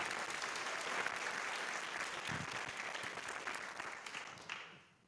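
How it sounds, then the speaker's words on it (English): An audience at a Buffalo Public Schools board meeting claps for a teacher, a steady, dense round of applause that carries for several seconds and then tapers off. "Please give Miss Murray a round of applause"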